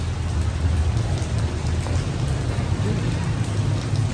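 Heavy rain pours steadily onto a surface as a dense, unbroken hiss with a low rumble beneath it, near and constant throughout, heard during a big motorcycle delivery.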